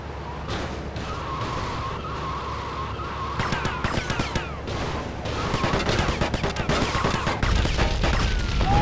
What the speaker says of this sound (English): I'm not shooting at you, dude.